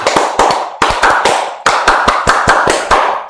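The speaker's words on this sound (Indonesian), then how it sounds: "akan praktekkan 1 kali tepuk pramuka." A group performs the Scout rhythmic clap pattern in unison, sharp loud claps grouped in quick repeating bursts with short pauses between phrases, crisp and close.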